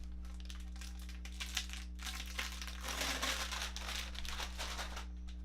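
A Four Souls board game play mat, a large four-player cloth mat, being unwrapped: steady crinkling and rustling of plastic packaging, close and continuous over a constant low hum, swelling midway.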